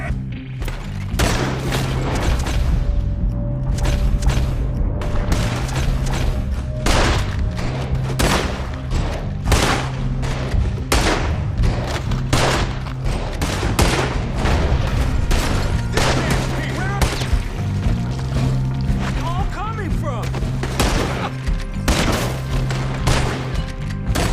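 Dense, rapid gunfire in a Red Dead Redemption 2 shootout, with many overlapping shots and booms in a continuous barrage over a game soundtrack, while character voices shout over the gunfire.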